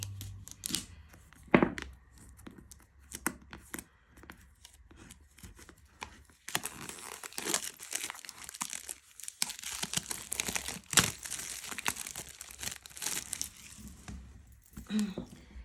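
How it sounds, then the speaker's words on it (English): Plastic wrap being cut and peeled off a boxed tarot deck, heard as close crinkling, tearing and snipping in irregular bursts, with a longer stretch of rustling crumple in the middle and someone talking intermittently. "I'm gonna get my sharp and very dangerous tool and remove said plastic"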